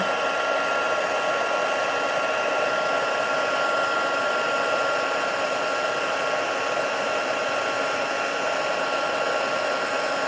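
A heat gun blasts hot air onto marshmallow puff embossing powder, a steady loud whooshing blower drone held for the whole stretch with no pauses and no talking.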